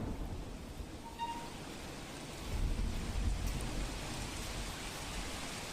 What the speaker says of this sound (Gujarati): અમદાવાદના અનેક વિસ્તારમાં ધોધમાર વરસાદ વરસી રહ્યો છે